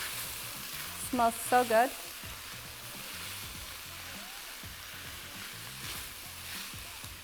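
Cheesesteak stuffed pepper filling being tossed with pepper in a hot pan gives a steady low sizzle and scraping stir sounds, with a brief spoken remark over the cooking.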